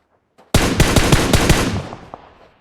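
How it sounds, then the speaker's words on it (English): A rapid burst of video game gunfire in a scrim match: a loud, close volley of about eight shots that trails off into a fading echo. "Cal throws every shot at him and misses every shot"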